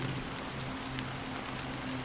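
Steady rainfall patters over the surroundings in Honkai: Star Rail's Penacony, an even, dense hiss of drops with no voices and no pauses.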